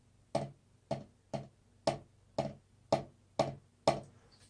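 Loose drumsticks dribbling on a drum, eight separate bouncy hits at a steady, slightly uneven pace, each a short clattery burst with a smeared decay rather than one crisp stroke, close and fairly loud with no voices.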